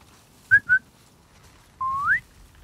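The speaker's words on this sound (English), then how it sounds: "They literally talk through whistling." Scars signal to each other by whistling in The Last of Us Part II. Two short, clear whistle chirps come quickly one after the other, then after a pause a longer rising whistle. They sound close and clean over faint background.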